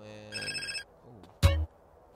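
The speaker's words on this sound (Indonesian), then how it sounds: "Kita angkat telepon dulu" A mobile phone in GTA San Andreas Definitive Edition on PC gives one short electronic ringing trill, followed by a brief, loud, blunt thump, with quiet between.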